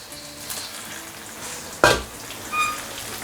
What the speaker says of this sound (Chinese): 油温烧到6成，开始来复炸蘑菇。